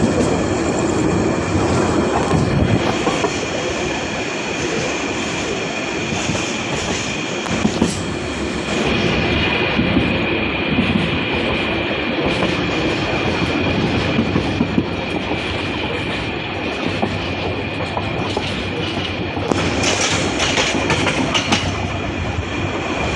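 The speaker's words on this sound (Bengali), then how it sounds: "আরেকটি ট্রেন চলে আসতেছে, দেখতে পারবেন।" A train rumbles past near the Dhaka airport area at night, a loud, continuous close roar with rattling wheels and clickety-clack running the whole time, swelling again toward the end.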